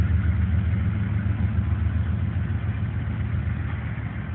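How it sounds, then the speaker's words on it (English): Norfolk Southern diesel locomotives haul a freight train onto the mainline at Calverton, Virginia, working hard at full throttle; a heavy, steady, roaring engine rumble fills the scene with no talk. "Those engines working hard."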